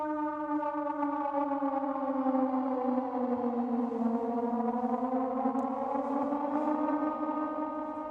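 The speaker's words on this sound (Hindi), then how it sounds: "5 मिनट से बताया जा रहा है कि वहां पर सायरन बज रहा है" A civil defense siren wailing in Chandigarh during a high alert, a steady rising and falling tone that sounds continuously and loudly, with echo across the whole stretch.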